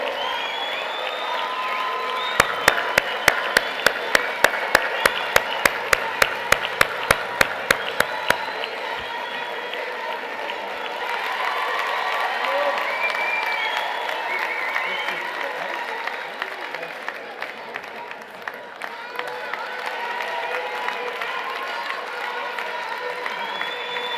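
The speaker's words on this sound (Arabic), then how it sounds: "صفقوا عليهم" An audience at a Moroccan political rally applauds and cheers. Sharp rhythmic clapping in unison comes first, then a broad roar of applause and whoops from the crowd, with voices mixed in.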